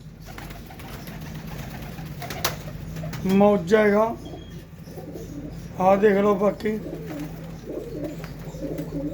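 Gola pigeons at a Sunday pigeon sale coo in two short bursts, close and fairly loud, over a steady low hum, with someone talking in Punjabi around them.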